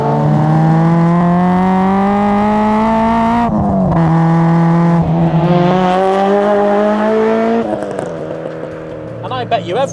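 A Honda Integra Type R DC5 engine revs hard with VTEC engaging, a loud droning climb in pitch that dips at a shift and rises again, the rasp sharpening as the cams switch.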